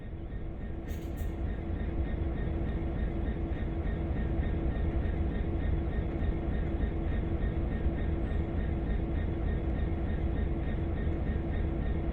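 Train in the Train Sim World game pulling away, with a steady low rumble of wheels and motors and a faint rhythmic clatter, plus a brief high chirp near the start. The sound stays even and close, with no voices.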